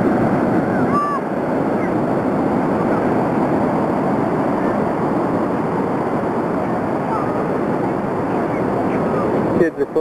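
Ocean waves wash up on a sandy beach below tall cliffs, a loud, continuous roar of surf with heavy wind buffeting the microphone throughout.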